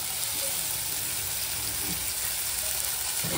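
Potatoes frying in a pan for a spiced fish dish, a loud, continuous hiss of sizzling oil that stays steady throughout, with faint stirring knocks underneath.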